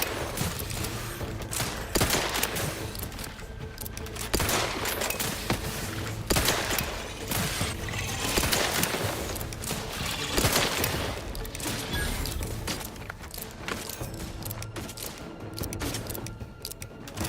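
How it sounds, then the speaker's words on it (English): Sustained video-game gunfire from Outer Worlds 2, rapid overlapping bursts and shots crackling continuously and loudly throughout with no pauses. "Are you still shooting at more?"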